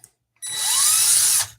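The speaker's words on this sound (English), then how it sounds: "I also have access to power tools" A power drill bores into a small miniature figure, a single steady whine that starts abruptly, holds for about a second, then cuts off, close and loud.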